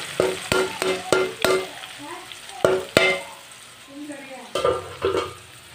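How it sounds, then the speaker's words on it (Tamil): Indian gooseberries going into hot oil for homemade herbal hair oil, giving a series of sharp clattering stirs and scrapes over a steady low sizzle, with a few louder clanks near the start and end. "இந்த எண்ணெய் சூடாகி வந்து அந்த நெல்லிக்காய் உள்ளே போட்டணும்."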